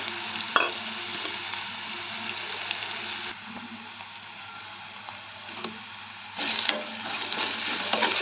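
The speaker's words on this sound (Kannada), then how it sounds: "ಮೆಣಸಿನ್ಕಾಯಿ ಉಳ್ಳಾಗಡ್ಡಿ ಎಲ್ಲ ಸ್ವಲ್ಪ ಚಂದ ಫ್ರೈ ಆಗ್ಯಾವಲ್ರಿ" Green chillies and onions frying in a pan for upma give a continuous close sizzle, with a few sharp stirring knocks and a louder burst of crackle toward the end.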